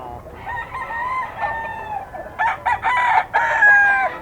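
Several young roosters (stags) crowing at a gamefowl seller's pen, overlapping cock-a-doodle-doo calls, fairly close and loud, one crow following another with clucking between.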